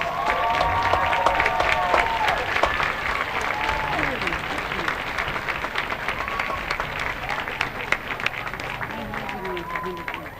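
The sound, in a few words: audience applause at a high school football game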